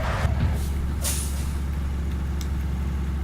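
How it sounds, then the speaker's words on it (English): A truck's air brakes hiss in the Hard Truck 18 Wheels of Steel video game, with a sharp burst of released air over a steady, loud diesel engine drone, followed by fainter hisses. "It's got some really good brakes."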